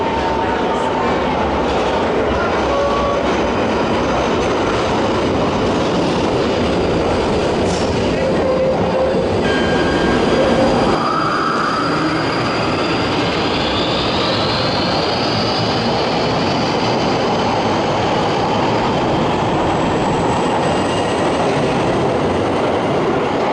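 A London Underground Northern Line train at Chalk Farm, a loud steady roar of rails and carriage with rising wheel squeal partway through, continuous throughout.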